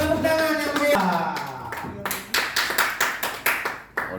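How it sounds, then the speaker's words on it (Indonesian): An audience at a facilitator training session claps in a strong, regular rhythm of about eight distinct beats, following a stretch of talking and voices at the start. "Kita beri aplaus dulu. Tepuk tangan yang meriah."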